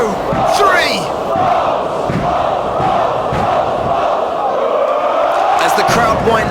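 A wrestling crowd at a British independent show roars and cheers steadily throughout, a loud dense wall of voices with shouts rising above it, alongside a commentator's voice.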